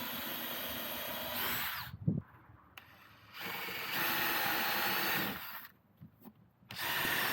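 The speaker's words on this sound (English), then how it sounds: "so I could position the drill holes and start drilling." A power drill whines as it bores holes in plywood van flooring in two sustained bursts, separated by quieter pauses with a few clicks and knocks.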